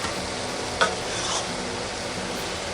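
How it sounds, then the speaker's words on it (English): Cauliflower drops into a hot pan of sizzling sausage and broccoli for a casserole, making a steady close frying hiss with a brief soft clatter as the pieces land, and no voices. "and then goes in my cauliflower."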